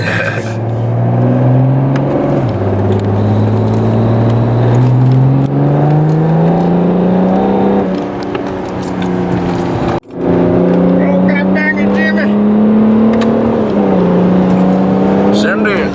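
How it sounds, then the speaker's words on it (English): A BMW 335d diesel sedan accelerating hard, its engine note rising steadily and loud through the gears with a brief break midway before pulling again; the wheel hop itself is not distinct. "I think you got a little wheel hop action."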